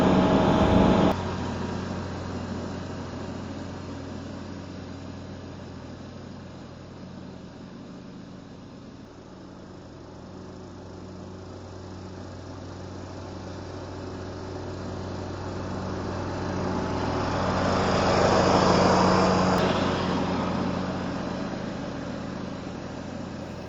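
A 2009 John Deere LA105 riding mower's engine runs steadily on a replacement carburetor, a continuous droning hum that dips slightly then swells louder toward the end, with no talking.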